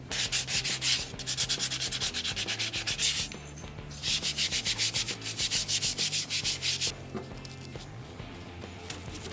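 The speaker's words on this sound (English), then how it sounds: "And then a few more layers of wood varnish, and then sanded it down." Rhythmic back-and-forth sanding of varnished wood, brisk close strokes in two long bursts with a short pause between and a quieter rubbing stretch at the end.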